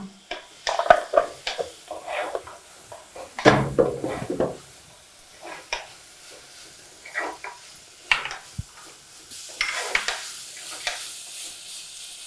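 Vegetables with turmeric frying in a pan for chitranna rice bath, stirred with a utensil. Bursts of sizzle and scraping come and go in uneven strokes, with brief knocks and pauses between stirs.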